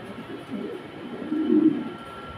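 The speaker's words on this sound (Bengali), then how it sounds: "কবুতরটার সিস্টেমটা দেখেন যে কী করে, দেখেন" Pigeon on a pigeon farm giving low, throaty coos in a few soft swelling phrases, fairly close against a quiet background.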